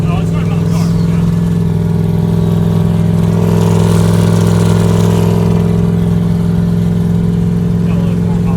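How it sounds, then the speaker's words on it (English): Turbocharged, roughly thousand-wheel-horsepower Pontiac Trans Am with a Powerglide transmission, heard from inside: loud, steady heavy engine and exhaust drone with a brief surge of revving, people talking over it. "If the exhaust was in the back, it would not be that loud."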